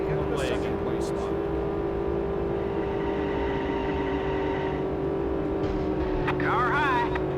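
Race car engines in a NASCAR racing video game drone continuously at high revs, loud and dense, with passing whines and pitch shifts near the end.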